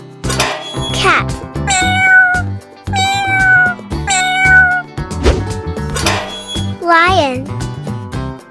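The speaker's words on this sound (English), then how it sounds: "Cat." Several cat meows come in a rhythmic series with short pauses between them, loud and close. A voice speaks between some of the calls.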